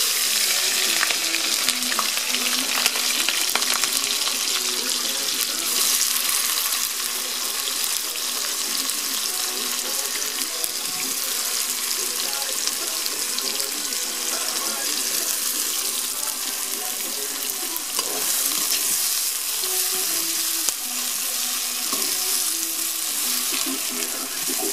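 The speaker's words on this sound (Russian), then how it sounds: "Пока жарится лук, нарезаем курицу." Oil sizzles and crackles steadily as onions fry in a cauldron, a constant bright hiss with occasional stirring scrapes, no voices.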